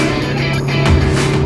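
An Alfa Romeo Giulietta Veloce with the 1.8 TBi 16V engine and TCT dual clutch gearbox pulls along a country road, its engine note loud and close, rising slightly as it accelerates.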